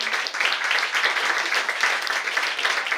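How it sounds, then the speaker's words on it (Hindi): An audience at a church sermon gathering claps steadily in thanks to the parents, a dense, even wash of applause filling the whole stretch with no voices on top. "देखो सारे माता पिता के लिए धन्यवाद की तालियां बजाओ।"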